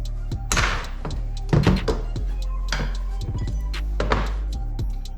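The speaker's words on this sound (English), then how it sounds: "Just pop that pin out, take this out" Pin being worked out of a WR250R motorcycle suspension part, giving a series of sharp metallic knocks and thunks at an uneven pace over steady low background hum, close up with no talking.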